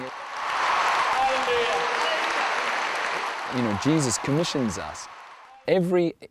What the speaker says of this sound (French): tu peux applaudir lui, comme un match football